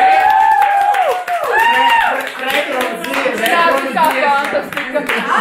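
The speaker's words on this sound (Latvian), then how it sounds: "Aplausi, vēl 10 sekundes." Audience applause at the 2012 POPiela concert for a song: steady, dense clapping from a crowd mixed with loud sung melody and music, with voices in the hall.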